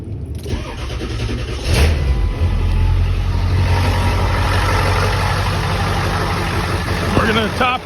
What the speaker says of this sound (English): Now we're gonna run the engine for another 5 to 6 minutes with the heater on.